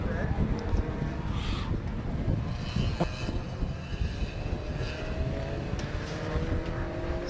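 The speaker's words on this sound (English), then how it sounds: "There is the Charlie Campbell Peugeot RCZ." Racing cars, including a Peugeot RCZ, pass on the Snetterton circuit during a club endurance race. The engine sweeps come from a distance, rising and fading against steady wind buffeting on the microphone.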